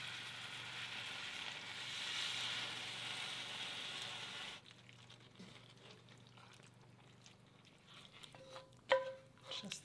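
Gravy for a snowshoe hare pot pie simmers with braising liquid, a steady hiss for several seconds that then drops to a quieter bubbling with occasional soft clicks and clinks.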